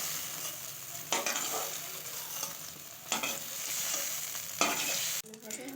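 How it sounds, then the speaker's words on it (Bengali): Boiled potatoes stirred in hot oil in a kadai, a steady frying sizzle with scraping stir strokes at roughly regular intervals, close and moderately loud, no voices. "একটু ভালো করে নাড়াচাড়া করে কষে নিচ্ছি আলুটাকে তেলের মধ্যে দিয়ে"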